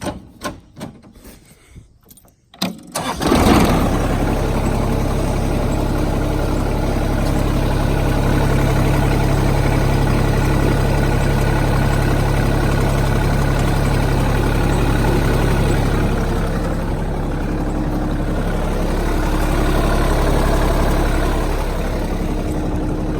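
A Kioti compact tractor with a front loader fitted idles steadily right after start-up, a dense, even diesel rumble that holds close and loud for about twenty seconds following a few quiet handling noises and the ignition.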